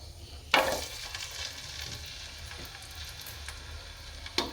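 Garlic dropped into hot oil for a tempering, cooking for a country chicken curry: a sharp crackling burst as it hits the oil, then a steady soft sizzle with occasional pops and a stirring clink near the end.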